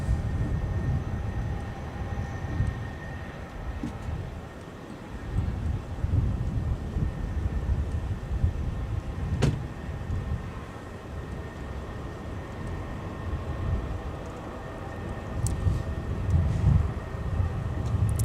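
Aircraft taxiing at Minneapolis–St. Paul Airport, a steady low rumble of jet engines holding near at moderate level throughout, swelling slightly at times, with a brief sharp click partway through and no talking.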